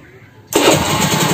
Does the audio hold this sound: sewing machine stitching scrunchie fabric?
no